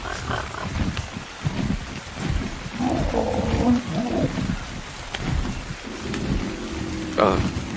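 Rain and rolling thunder in the video game Ark, a dense roaring storm wash with low rumbles, loud and continuous, with a brief voice near the end.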